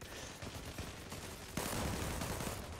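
Gunfire in the video game Zula, quiet bursts of rapid shots that sound like a firefight, growing louder and denser halfway through.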